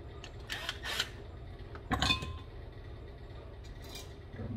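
Small metal clinks and taps as a nut is threaded onto a part of a Tecumseh small engine on a Toro machine, with a few brief, close, sharp metallic contacts over faint background noise.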